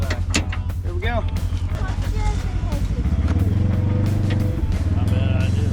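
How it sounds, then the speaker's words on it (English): An old Volvo engine revs hard toward the rev limiter while off-roading through backyard terrain, a loud, close, droning roar that rises and holds steady, with people talking over it early on. "Hit that rev limiter."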